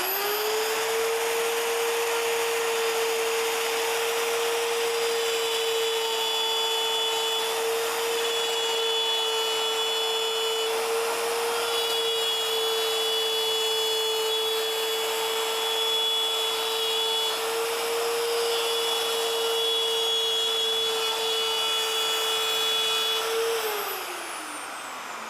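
A column router spinning a fine bit at maximum speed gives a steady, loud high-pitched whine that holds unchanged for over twenty seconds, then winds down slightly at the end; no talking.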